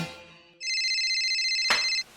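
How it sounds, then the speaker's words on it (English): A cell phone ringtone plays alone: a bright, sustained electronic warble starts after a short fade of other sound, holds steady for over a second, then cuts off abruptly. "Turn off your cell phones."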